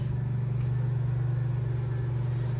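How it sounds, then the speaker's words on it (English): A steady low lawn mower engine drone hums throughout, muffled from outside, without changing pitch or volume. "Here comes Mom in with the mower. If you can hear that."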